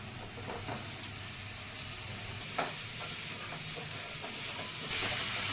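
Chopped wild mushrooms fry in oil for a village-style Andhra mushroom curry, a steady close sizzle with occasional soft stirring clicks and a slight swell of hissing at the end.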